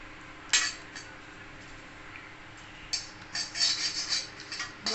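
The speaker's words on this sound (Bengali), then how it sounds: "কড়াইতে অল্প একটু নেড়ে নিলাম" Fennel seeds are stirred in a kadai over heat, a metal spoon scraping and clinking against the pan in a few sharp strokes followed by a cluster of quicker light scrapes, fairly quiet against a faint background hum.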